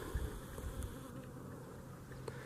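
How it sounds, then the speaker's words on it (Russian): Bees flying around a grafted fruit tree outdoors, a faint continuous buzzing drone over quiet ambient background, with no talk. "Пчелки летают."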